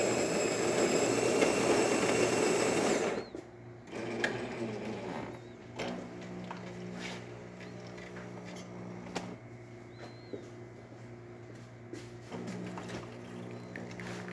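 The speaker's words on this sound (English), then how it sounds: "Okay, now the machine is out of standby mode. We can do a shot of espresso." A Jura espresso machine brewing a shot starts with a loud whirring grind, then settles into a steady pump hum with intermittent clicks and mechanical knocks.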